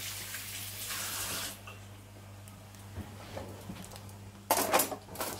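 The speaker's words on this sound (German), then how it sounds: "Als nächstes die Möhren waschen." Kitchen tap water running while carrots are washed, a steady close hiss for about a second and a half, then a quiet stretch with faint handling sounds before a brief louder burst of splashing water near the end.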